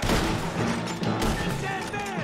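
Gunfire in Red Dead Redemption 2, a burst of loud overlapping shots and booms in quick succession, with voices talking over the fight.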